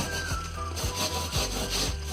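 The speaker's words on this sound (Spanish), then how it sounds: "ahí es la zona donde nosotros vamos a pasar la esponja" A sponge rubbing back and forth over a candle-waxed wooden picture frame, steady rhythmic scraping strokes about twice a second, close and continuous.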